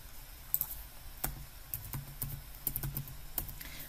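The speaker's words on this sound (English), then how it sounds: "Once you've typed in the patient's surname, gender and date of birth" Someone types on a computer keyboard nearby, making light, irregular clicking keystrokes with short pauses between bursts.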